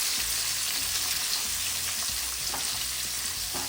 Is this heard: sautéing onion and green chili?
yes